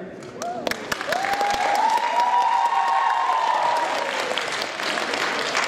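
Audience applause and cheering for a Negan cosplay contestant at a Walking Dead-themed fan festival's alternative catwalk competition, a dense sustained roar of clapping with a held cheer rising over it, steady and loud throughout.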